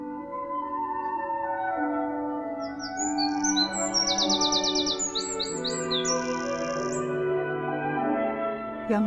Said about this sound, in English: Baby bullfinches.